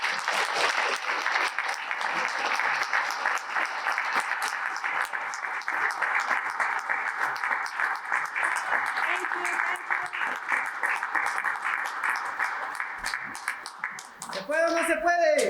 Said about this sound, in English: So a round of applause for BDC.